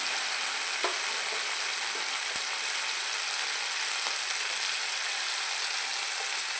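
Spices and capsicum frying in a pan, a steady bright sizzle with faint scraping clicks as they are stirred, close and continuous with no speech.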